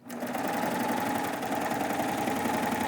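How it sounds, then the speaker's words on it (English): A serger overlock sewing machine stitching a fabric tissue tote runs continuously at steady speed, a close, loud, even whirring hum with a fast mechanical chatter and no pauses. "Let's go over and serge our project."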